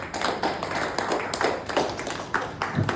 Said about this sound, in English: Let's give a huge round of applause to Mr. Vijay